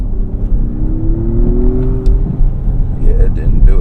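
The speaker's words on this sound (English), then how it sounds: "when I put the throttle down to the floor, let's see as we're rolling and not from a stop" An Acura MDX Type S pulls hard under full throttle while already rolling, its engine note climbing steadily in a loud, continuous surge with road and wind noise, and a voice talking over it.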